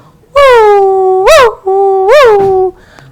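A human voice imitates a dog's bark and howl in a sung children's rhyme, with three long, close, loud tones, each bending upward in pitch partway through.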